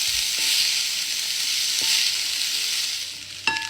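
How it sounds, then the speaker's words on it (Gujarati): Poha being stirred and fried in a pan, a steady close sizzle of frying with occasional scraping stir strokes and a sharper clink near the end, no voices. "હવે આપણે મૂકીશું પૌવા એની અંદર હવે ફેરવી દઈશું એવી રીતે મિક્સ કરી દેવાના"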